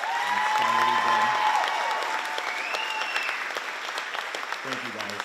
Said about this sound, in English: I want one last round of applause for the class of 2025